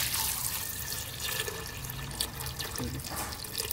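Steady stream of water pouring close by into a pot of black chickpea curry, a continuous gurgling flow lasting throughout, with no talking over it.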